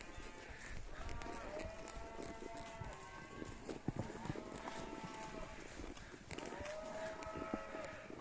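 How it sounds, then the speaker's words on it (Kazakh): Several cattle moo in long, drawn-out calls over a steady rustle of outdoor noise, some near and some farther off. "Сиырларымыз алдымызда."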